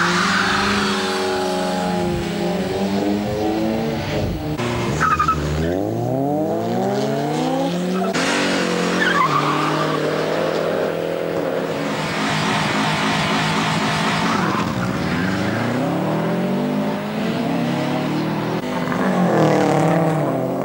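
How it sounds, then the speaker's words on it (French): A tuned car accelerates hard down a circuit pit straight at a French GTI tuning meet, its engine note climbing through repeated gear changes in loud rising sweeps, with further revving runs following one after another. "Pouvoir s'élancer dans des tests d'accélération en toute sécurité sur la ligne droite des stands du circuit"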